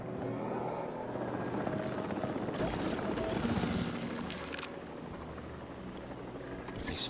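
Helicopter rotor and engine roar during an airlift in the Jurassic World Evolution 3 video game, a steady loud whir throughout with game effects and mixed audio layered on top.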